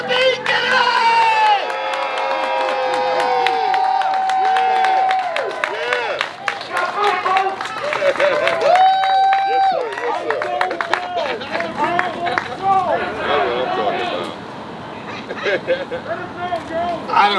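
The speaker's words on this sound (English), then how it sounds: "So please join me in a Roxbury rounding, surrounding, rousing round of applause for Joseph E. Kennedy!" A large crowd at a Senate campaign rally cheers, whoops and applauds loudly and continuously, with shouts and whistles rising over the sustained clapping.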